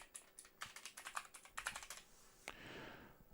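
Quick bursts of typing on a computer keyboard, close and faint, a rapid irregular patter of key clicks ending with a final tap and a soft rustle.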